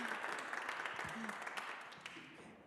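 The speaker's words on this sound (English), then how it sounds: "So let's give her a round of applause." An audience at a church forum applauds a visiting professor and her students, a soft steady patter of many hands clapping, fairly distant and fading toward the end.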